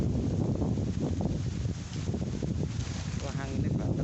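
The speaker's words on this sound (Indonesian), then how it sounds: "Wah, anginnya banter sob." Strong wind gusts outdoors roar continuously into the microphone as a loud, rough rumble, with a voice speaking briefly under it.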